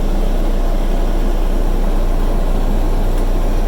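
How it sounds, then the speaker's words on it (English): Air conditioning in the cab of a 1994 Cat 307 midi excavator blows as a loud, steady broadband rush with a constant low hum, close up and unchanging throughout. "this unit does have an air conditioning unit system. You can feel it blowing"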